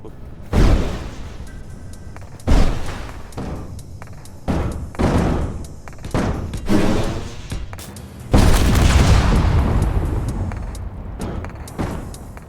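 Heavy booms and thuds go off in a survival session of Space Engineers, a run of separate blasts, each ending in a long rumbling tail.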